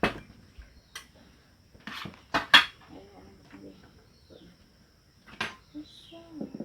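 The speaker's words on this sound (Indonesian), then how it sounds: "Ini pa piring eh." Plates and dishes clattering during a Bugis Makassar village celebration: scattered sharp clinks and knocks of crockery and cutlery, near and irregular, with people talking in between.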